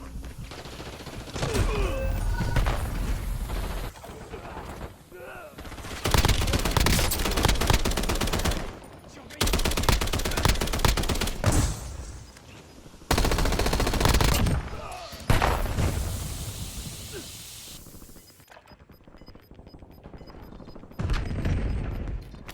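Bursts of automatic gunfire from the video game Call of Duty: Warzone come in long loud volleys separated by short pauses, with scattered single shots and voice chatter underneath.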